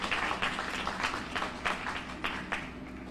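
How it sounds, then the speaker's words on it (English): Audience applause at a children's museum reopening ceremony: a steady patter of scattered hand claps at moderate distance, fairly quiet and even, with no talking over it. "Please join me in a round of applause to thank them for all their work"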